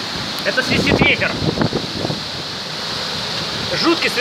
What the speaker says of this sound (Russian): Это свистит ветер.